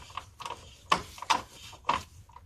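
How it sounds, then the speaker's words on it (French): Ratchet wrench clicking in short, close bursts during BMW N54 oil pan removal, a few sharp clicks spaced irregularly against a quiet background. "Ce cliquet, ça fait 4 ans que je l'ai."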